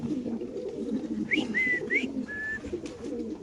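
Pigeons coo and call close by, a few short tonal notes rising over a steady murmur of background noise, with no talk in between.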